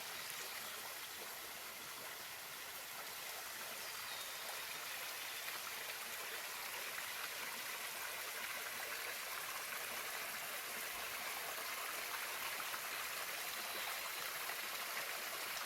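Mountain valley stream flowing steadily through a deep forested gorge, a constant faint rushing and babbling wash of water with no voices.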